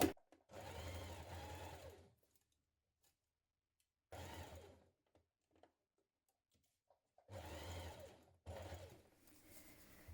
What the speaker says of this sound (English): we're going to stitch that with a 6mm seam this time